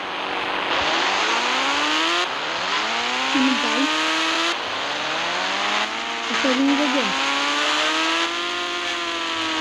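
A motorbike in a video game whines through rising and falling engine revs, shifting pitch repeatedly as it accelerates, loud and steady across the whole span.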